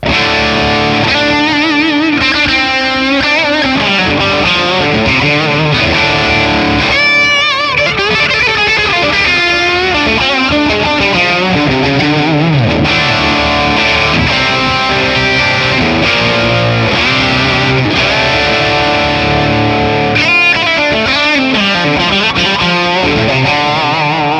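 An electric guitar played through a TONEX FX with overdrive and a tape echo setting rings out continuously: gritty, sustained chords and notes trailing repeating echoes, loud and alone.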